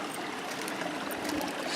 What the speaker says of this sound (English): see the water coming straight out of the ground.